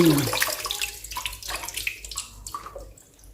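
Blanched vegetables rinsed in cold water, a close, continuous splashing and running water sound that fades toward the end, with no talk.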